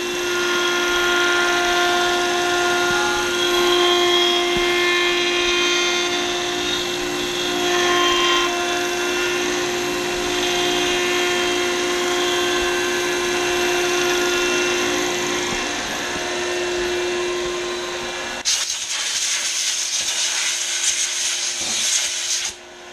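A copy-milling machine runs a 6mm cutter along a knife handle for the final cut, giving a steady whining, droning machine tone that holds for about twenty seconds before a harsher, brighter grinding takes over near the end.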